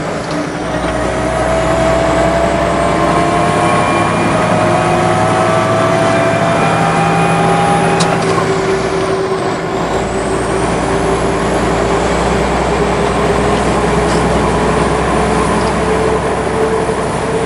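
A truck engine drones loudly and steadily while driving through gears on an Eaton Fuller Super 10 transmission, with the engine pitch rising, dropping briefly during a shift around the midpoint, then climbing again.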